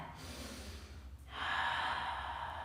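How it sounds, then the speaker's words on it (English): A big breath during a yoga pose, a soft airy inhale or exhale that swells and holds near the end over a low background hum. "Take 3 big breaths here."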